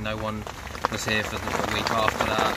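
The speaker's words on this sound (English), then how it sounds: "As you can hear, it's absolutely raining" Heavy rain falls steadily outdoors at a carp fishing lake, a dense constant patter under someone talking close by.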